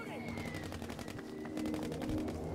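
Automatic gunfire in the online multiplayer shooter Battlefield V, a fast rattle of repeated shots over continuous game noise and background music, with no talk.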